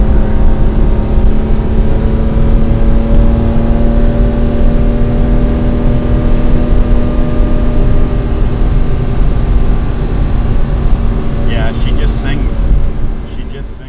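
A 1967 Ferrari 330 GTC, chassis 10513, cruising along a quiet country road, its engine a steady continuous drone throughout with a constant pitch. No one speaks, and light clicks come in near the end.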